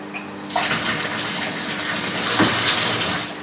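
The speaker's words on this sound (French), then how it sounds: "Quand on a besoin d'eau, on peut ajuster le volume jusqu'au simple filet d'eau." Water gushes steadily from an outdoor self-draining garden tap, a loud continuous splashing stream close by with no talk.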